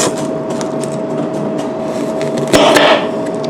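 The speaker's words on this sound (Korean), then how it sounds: "지금 내 칼질 넘나 불안하다." A knife chops on a cutting board in a home kitchen with quick, irregular light taps over a constant background hum, ending in a louder burst of cuts near the end.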